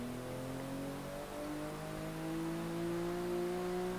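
Car engine droning inside the cabin in Forza Horizon 3, a steady in-game interior tone with rising pitch as the car accelerates, continuous and fairly loud with no talking.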